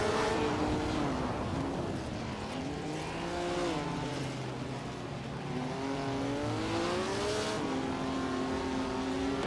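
Race cars in an arcade-style racing video game roar continuously, engine tones rising and falling as they shift and accelerate in a close multi-car battle for the lead, loud and steady with no talking.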